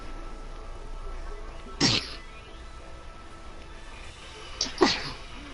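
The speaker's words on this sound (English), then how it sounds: "You sneezed a little too hard?" Two sharp sneezes, a few seconds apart, burst out over a quiet room hum; the second is slightly longer.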